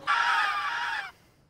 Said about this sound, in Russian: сынуля, по-моему, встречает такой яркий день своими криками